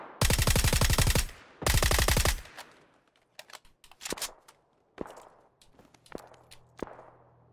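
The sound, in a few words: gunfire in video game PUBG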